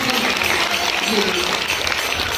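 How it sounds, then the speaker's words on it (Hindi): A crowd at a BJP district women's wing birthday celebration applauds loudly and continuously, a thick close-up roar of clapping with voices mixed in. "एक बार जोरदार तालियों से आप इन बहनों का भी"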